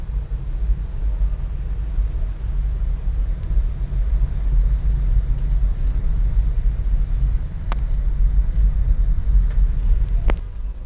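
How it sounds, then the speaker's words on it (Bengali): Buses and cars move through rainwater on a flooded main road in Dhaka, a steady low traffic rumble and wash of water with a few sharp clicks late on, no voices. "হঠাৎ কোনো বাস টাস চলে আর হঠাৎ কোনো প্রাইভেট কার আর রিক্সা টিক্সা আছে"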